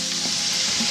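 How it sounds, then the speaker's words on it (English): Chorizo sausage frying in a paella pan gives off a loud, dense, continuous sizzle, close up and with no voices over it. "in the pan now, I'm going to add my chorizo sausage"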